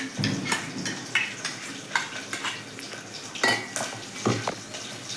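Cucumber pieces for dosakaya pachadi are stirred in a bowl with a spoon, giving repeated soft scraping and clinking strokes at an uneven rhythm, close up and quiet.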